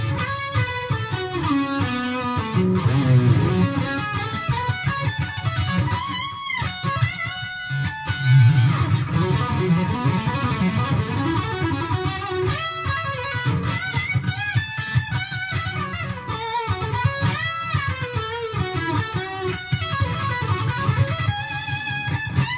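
Electric guitar playing the solo from a song, a dense sustained lead line of bends and runs over a continuous backing, loud and steady with no talking.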